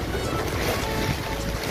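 Strong typhoon wind under a signal #3 storm roars in a dense, continuous rush close to the microphone, buffeting it steadily with no voices over it.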